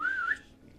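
A person whistles once to call a companion, a short rising then dipping tone lasting about a third of a second, with quiet room noise after.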